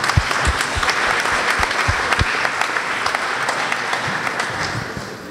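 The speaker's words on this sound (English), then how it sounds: "So give yourself a round of applause." A paediatric palliative care conference audience applauds, a steady crowd of clapping with some sharp nearby claps standing out, holding level and then easing slightly at the end.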